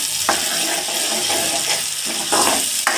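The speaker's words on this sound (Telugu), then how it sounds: "ఇప్పుడు ఆ పేస్ట్ని కూడా అందులో వేసేద్దాం. వేసి ఒకసారి బాగా కలుపుకుందాం" Masala paste being stirred into cauliflower curry in a hot oily pan, giving a steady close sizzle with scraping spoon strokes throughout.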